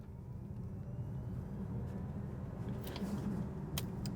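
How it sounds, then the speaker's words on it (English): A Nissan Ariya electric car accelerates, heard from inside the cabin as a faint, steady low road and drivetrain hum that swells slightly, with a few soft clicks near the end. "we're gonna accelerate for a second"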